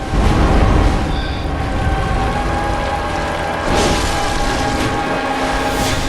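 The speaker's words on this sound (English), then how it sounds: "Explosion." Explosions from a boss fight in the video game Bloodborne, deep rumbling booms and mechanical crashes rolling continuously, loud and dense, with a brief sharper burst midway.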